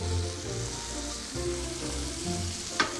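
Boneless chicken thigh sizzles and spits steadily in a hot pan, a close, continuous frying hiss with a faint clink near the end, and no voices.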